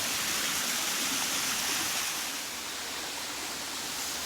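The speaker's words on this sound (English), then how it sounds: "I seem to have found the waterfall." A waterfall roars as a continuous, broad wash of rushing water, steady and fairly close, with no voices.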